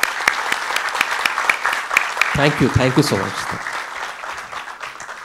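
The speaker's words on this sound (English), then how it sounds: "A huge round of applause" Audience applause at a literary festival session, a dense, steady clapping from a crowd heard close up for several seconds while a speaker offers thanks over it.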